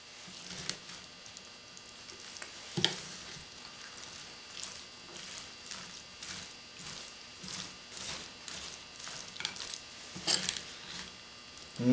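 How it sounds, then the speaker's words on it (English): Chopped cabbage coleslaw is stirred with mayonnaise in a bowl, giving soft, wet squishing and pattering scrapes in an uneven rhythm, close and quiet, with occasional louder scoops. "Scoop from the bottom and sides so you're sure you get every part of it in the mix."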